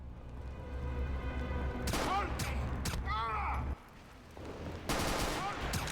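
Bursts of video game gunfire, several rapid volleys and sharp shots spaced across a few seconds, fairly quiet in the mix over a steady background hum.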